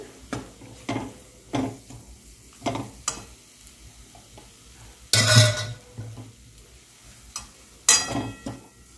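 Black masala spice paste frying and being stirred in a pan for village-style chicken gravy, with repeated scraping stir strokes over a steady sizzle and two louder bursts of hissing, close and without talk.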